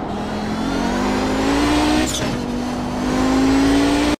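An Audi 90 GTO race car in the iRacing sim at Sebring, its engine droning loud and steady under modulated throttle, the pitch rising slowly with a brief dip near the midpoint before climbing again, with no voice over it.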